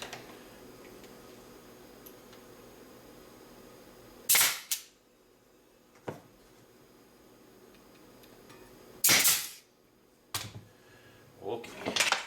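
Staple gun driving 1 1/4 inch staples into a wooden mini bee frame: three sharp, loud isolated shots spaced a few seconds apart, plus a softer clack near the end, over quiet workshop room tone with no talk.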